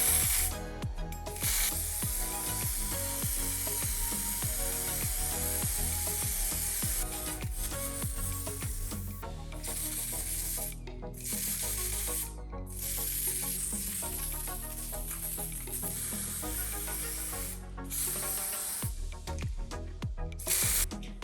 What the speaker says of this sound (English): now I'm going to come in with some Liquitex Professional Spray Paint